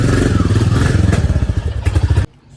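A new motorcycle's engine runs close by with a loud, rhythmic thumping idle and some clatter, then cuts off abruptly near the end.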